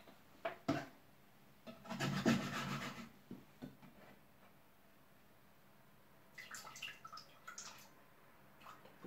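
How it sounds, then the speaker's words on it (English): Coconut milk poured into a hot pot coated with a little oil over a cooking fire, giving a brief splashing, sizzling burst amid scattered soft knocks and rubbing, fairly faint and with no talking. "Put some coconut milk in there."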